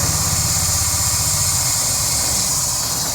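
A Standard Vanguard Phase 1 car engine runs at a steady idle, loud and close, with an even low throb and a constant hiss above it.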